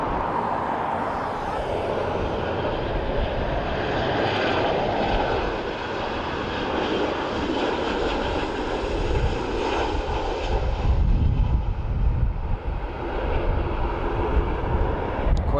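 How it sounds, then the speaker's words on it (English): A Ryanair Boeing 737 landing at Dublin Airport, a loud continuous jet engine roar and rushing noise that holds steady and swells slightly near the end, with no talking. "Quite a buttery landing from our Ryanair crew."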